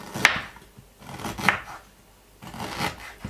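Ginger is chopped with a small knife on a board: three distinct, close knife strikes spaced about a second apart, with quiet handling sounds between them and no talking.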